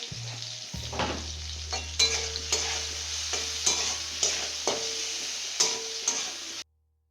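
Food fries in a pan with turmeric, giving a constant soft sizzle broken by regular scraping stirs every half second or so, close and fairly quiet, with no talking.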